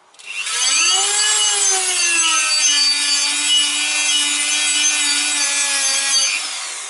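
Sandpaper rubbed over the holes of a car brake disc, one continuous close, loud, harsh scraping hiss lasting several seconds, with no talking.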